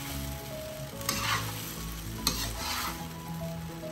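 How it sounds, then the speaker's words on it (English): Noodles being stir-fried in a pan and tossed with sauce, a close hissing sizzle with two sharp scrapes of the utensil against the pan amid the steady frying. "Now you have to mix it together so the sauce could be coated with the pasta."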